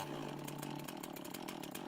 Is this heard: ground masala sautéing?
no